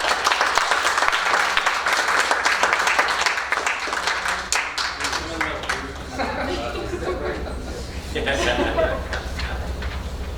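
A crowd at a school board meeting applauds with dense, sustained clapping that gradually thins out, with people chattering and laughing underneath.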